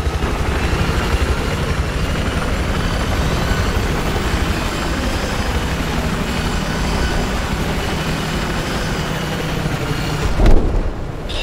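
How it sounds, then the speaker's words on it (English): A helicopter's steady, loud rotor drone in the video game Battlefield 4 fills the whole stretch without letup, ending with a brief thump near the close. "Oh hey, I've got a chopper."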